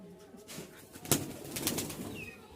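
Cooing from a pair of red Giribaz tumbler pigeons at a Rajshahi pigeon market, low throaty calls repeating close to the listener amid faint room noise and a brief sharp knock.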